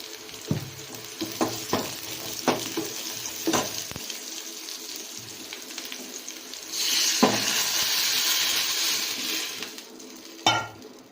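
Rasam with asafoetida stirred into hot oil in a home kitchen, close sizzling and clattering stir strokes in bursts, then a louder swelling hiss of frying before a final clink.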